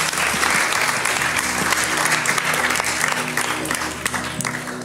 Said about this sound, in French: oui, on peut les applaudir